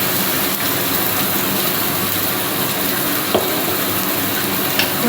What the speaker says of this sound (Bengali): ওদিকের কড়াইতে মাছ ভাজতে বসিয়েছি, ছোটো কড়াই, তোমরা যেটা দেখতে পাচ্ছ মাছ ভাজা চলছে, রুই মাছ।